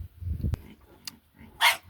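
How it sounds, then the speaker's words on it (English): A dog on a farm with muddy winter pig pens lets out a single sharp bark, with a brief yip just before it, against quiet outdoor background. "Oh, no barking."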